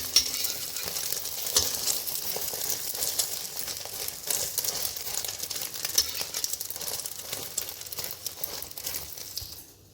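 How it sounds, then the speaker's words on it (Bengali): An omelette fries in mustard oil in a home kitchen pan, giving a soft, continuous sizzle with crackly patter and occasional stirring or scraping. The sound is fairly quiet and carries no talk, then fades out at the end. "হ্যাঁ, আমি অমলেট ভেজে নেব।"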